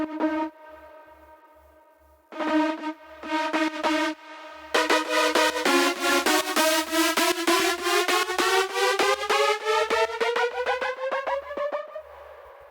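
Big room psytrance drop synth made in FL Studio, a bright harmonic lead whose stacked layers glide upward together under one pitch automation, rhythmic stabs starting, pausing, then building into a loud, continuous rising drive over a steady pulsing kick.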